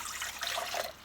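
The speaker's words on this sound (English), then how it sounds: "I'm going to pour that in there." Warm water poured into a bowl for bread dough made from a country white dough mix, a brief soft splashing trickle, close and fairly quiet.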